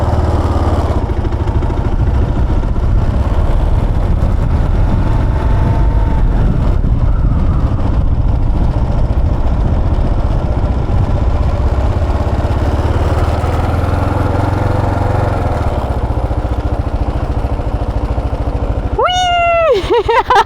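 A Kawasaki KLR 650 dual-sport motorcycle engine runs loud and close with a steady, throbbing idle throughout, and a brief rising whine at the end.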